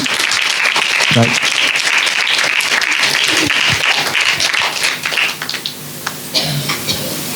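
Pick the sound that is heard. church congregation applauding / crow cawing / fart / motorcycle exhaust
church congregation applauding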